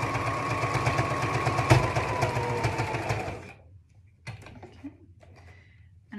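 A sewing machine stitches down one side of a child's hat in a steady, loud mechanical whir for about three and a half seconds, then stops, leaving faint handling clicks and rustles.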